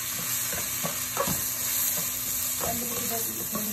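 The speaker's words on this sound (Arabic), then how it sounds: "نجاح اي رز عايزين لازم نقلبه دقيقتين او ثلاثه مع الشعريه مع البصل" Basmati rice being stirred with vermicelli and onion in a pot: a spoon scrapes and turns the grains in irregular strokes over a continuous frying sizzle and hiss, close and fairly loud.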